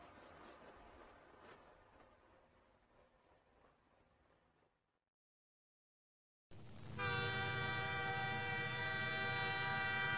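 A train climbing uphill rumbles faintly with rhythmic clatter, falls silent, then a loud, sustained horn blast starts abruptly and holds steady.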